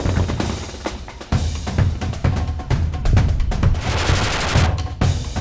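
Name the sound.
machine gun fire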